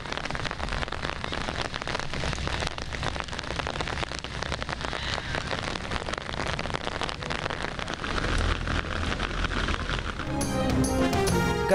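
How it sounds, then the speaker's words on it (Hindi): Heavy rain pours steadily over Karachi during a thunderstorm, a dense, loud wash of falling water that swells slightly near the end as brief tonal sounds cut in, with no speech heard. "कराची के मुख्तलिफ इलाकों में गरज चमक के साथ बारिश।"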